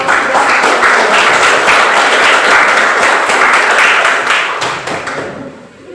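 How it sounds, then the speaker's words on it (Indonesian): An audience at a school student council candidates' vision-and-mission event claps together, a dense steady burst of applause fading out over several seconds. "Kita beri tepuk tangan sekali lagi kepada"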